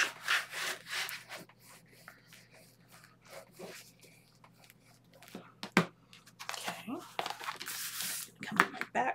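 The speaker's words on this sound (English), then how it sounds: "And then we are going to burnish." Folded paper for a shaker card album is burnished along its crease, producing close rubbing and scraping strokes in irregular bursts, with a person talking over parts of it.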